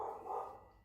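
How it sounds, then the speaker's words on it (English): A neighbor's dog barks in the distance, a faint, brief outburst of barking behind an indoor setting, with no speech over it. "please don't mind if you hear some barking there."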